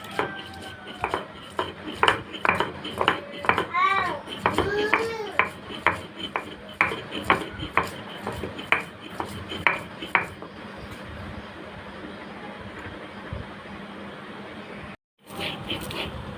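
Spices are ground by hand on a shil-pata stone slab, making rhythmic scraping and rubbing strokes of stone on stone, close and fairly loud, for about ten seconds before fading into a softer, steady grind.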